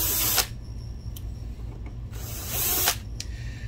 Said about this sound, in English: Going to use a 5mm nut driver to take those out.